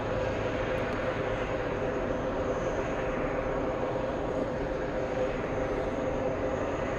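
Jet airplanes at JFK airport during the holiday travel rush: a steady, loud, broadband engine roar fills the whole stretch without pause, with no talk.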